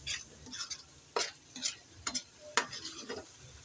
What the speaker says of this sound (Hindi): इसको हल्का सा हम भुनेंगे